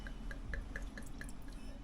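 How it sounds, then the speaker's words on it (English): White wine is poured into a clean glass, a faint, even run of about seven small liquid plinks and drips over low room hum, with no voices. "I just pour a little bit of wine in the glass"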